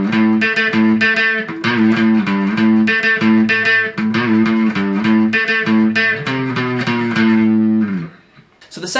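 Electric guitar plays the intro and verse of a song, a distorted riff of repeated chugging notes in a steady driving rhythm, loud and close, with the final notes ringing out and fading at the end.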